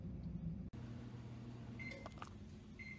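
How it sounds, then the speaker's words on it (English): A microwave oven melting small crayon pieces for candle making hums steadily at close range, with a brief click early on and a few faint beeps near the end. "So that's what I've got in the microwave right now."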